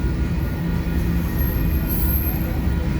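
Freight train rail cars, new Trinity Rail cars, rolling past in Blair or Fremont, Nebraska; a loud, steady rumble and rattle of wheels on track fills the whole stretch, with a faint high squeal near the end.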